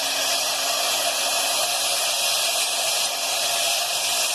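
A rotary tool bit grinds steadily into Aguascalientes stone under gentle pressure, giving a continuous, even, high-pitched whine that runs unbroken throughout.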